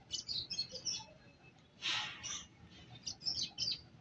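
Racing pigeons settle back at a loft in San Pablo, Laguna, with faint, sparse chirps and flutter-like bursts over a low background, including one louder rustling burst midway.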